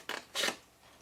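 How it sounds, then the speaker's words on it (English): Two quick snips of a large pair of scissors cutting card for a pentagonal treasure chest keepsake box, close and crisp, each a short burst, with quiet between. "So let me get a bigger pair of scissors."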